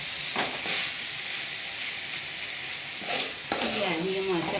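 Okra and coconut sautéing in a pan over low heat, giving a steady close sizzle with a few scraping stirs near the end, no talk.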